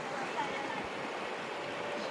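Steady broadband rush of flowing water, even and continuous throughout, like a river running nearby.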